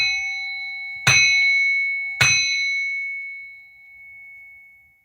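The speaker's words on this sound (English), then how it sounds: "I'm going to ring this bell to remove and cleanse all negativity" Two struck strikes of a small ringing bell in a negativity-cleansing ritual, each bright clear tone ringing out and slowly decaying, the second hit about a second after the first, near and alone with no talk.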